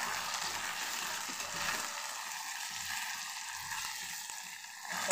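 Tomato is stirred into sprouted legumes frying in a pan, giving a steady close sizzle and hiss with faint scraping from the stirring throughout.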